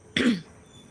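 A single short, harsh cough, close and fairly loud, followed by quiet.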